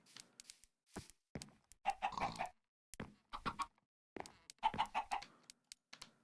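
Chickens cluck and chirp in the Minecraft TerraFirmaCraft game, with baby chicks and an adult hen near a nest box, giving short repeated clucking bursts in separated clusters, clear and close with no talk.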